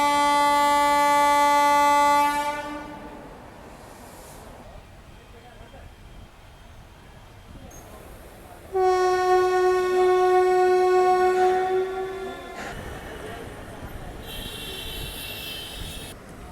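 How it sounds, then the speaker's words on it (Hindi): A fast train crossing near Bareilly Junction in India sounds a long, loud multi-tone horn blast, then rumbles past, and a second sustained horn blast follows, with the passing rail noise continuing throughout. "कोई फास्ट ट्रेन जो है वो क्रॉस हो रही है"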